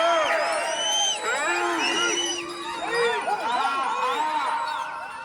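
A crowd at a village bull race in Omkaram shouts, whoops and cheers in overlapping rising and falling cries, lively and continuous over several seconds, with voices mixed in throughout.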